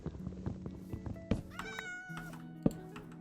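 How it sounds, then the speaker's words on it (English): A cat meows in the Minecraft video game, a few short tonal cries over a busy backdrop of game sounds and clicks, moderately faint. "I hear a cat"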